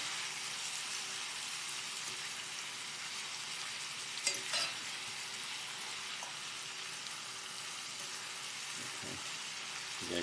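Spicy shrimp with mango glaze fries in a cast iron pan, a steady close sizzle and crackle running throughout, with a few brief clinks and stirring knocks partway through.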